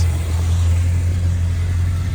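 A 1956 Plymouth Savoy runs steadily with its dual-into-single exhaust, giving a loud, deep, continuous rumble close by with no voices over it.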